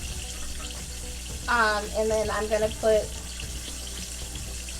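Water pours into a pressure cooker holding rice in a kitchen, a short splashing gush in a few bursts, close and moderately loud while a person talks briefly.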